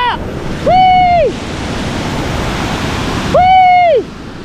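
Big waves rumble and wash in a steady roar of surf, with two excited whooping voices rising over the water near the shore.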